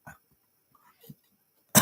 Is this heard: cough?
yes